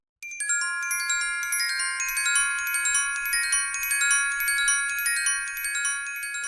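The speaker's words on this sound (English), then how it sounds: "Glockenspiel are also called orchestral bells." Bright metallic tones ring out from a glockenspiel, the orchestral bells, striking a quick sprightly run of high notes that overlap and sustain with clear, shimmering decay.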